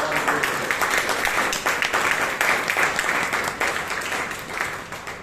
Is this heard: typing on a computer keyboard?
no